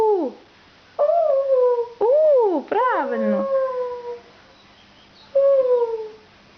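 A toddler's voice imitates a wolf howl with a few drawn-out, rising-and-falling 'oo' calls separated by short pauses, close and clear, alongside an adult's prompting voice.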